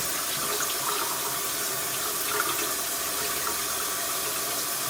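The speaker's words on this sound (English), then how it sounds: "you want to let water run in there and clean all that out" Tap water runs steadily into and through a raw whole chicken being rinsed at a kitchen sink for honey roasted chicken, a continuous close splashing gush with no talking.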